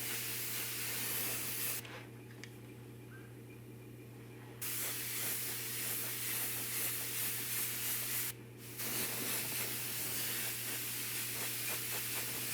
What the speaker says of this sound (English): I'm just going to mist it on until I kind of get the look I want.